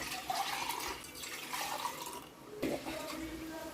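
Water poured into a cooking pot for ghee rice, a steady rushing stream with splashing that swells and eases, close and fairly loud, with faint talk around it.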